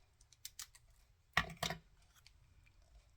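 Two quick scissor snips cutting card during Christmas card making, close and fairly quiet, the paired crisp cuts coming one after the other over a faint low background hum.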